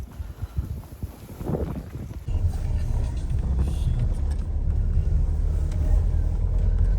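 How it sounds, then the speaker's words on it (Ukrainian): Car driving, with a steady low engine and road rumble plus wind noise rising after a brief stretch of rustling and movement, continuous and fairly loud throughout. "Ну Калянчик за нами приїхав, їдемо ми на біржу"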